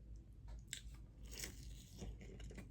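Crisp crunching bites and chewing of fried food from a spicy teriyaki bento box, heard close up and quiet, with a few distinct crackly bites over low mouth noise.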